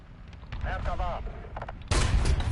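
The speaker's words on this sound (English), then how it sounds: "Ricochet!" Shell ricochet off tank armor in War Thunder, heard as a sudden loud broadband crack and roar near the end, following battle rumble and a voice talking over the fighting.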